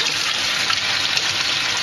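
A kitchen tap runs steadily while crappie fillets are cleaned under cold water, giving an unbroken, loud, close hiss of flowing water with no talk.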